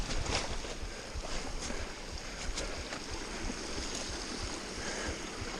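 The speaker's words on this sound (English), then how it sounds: "Think we can cross through that river?" A river on a wet winter mountain-bike ride in the hills of South Barrule gives off a steady, broadband rush of flowing water, loud and continuous throughout, with no talking over it.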